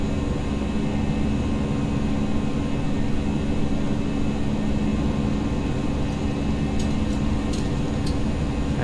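Airbus A319 jet engines accelerating on takeoff in the X-Plane flight simulator game, a steady loud cockpit hum and whine that stays even throughout, with a few faint clicks near the end.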